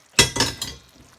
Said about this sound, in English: So let me just add the butter beans.